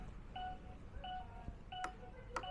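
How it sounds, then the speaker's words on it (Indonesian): Turn-signal beeper on a Viar C2 electric scooter: three evenly spaced electronic beeps, each a short steady tone, over a quiet low background hum. "ketika lampu sennya menyala, ada bunyi."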